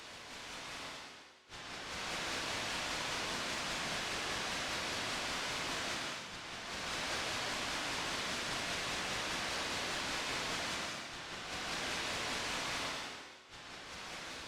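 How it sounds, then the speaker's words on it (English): Steady hiss of synthesized white noise, broad and loud, cut by brief dips into near silence three times before resuming. "now we've got some nice white noise to mix in with our air can"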